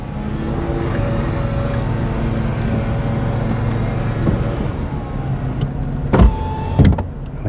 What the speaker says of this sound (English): And then the windows come back up.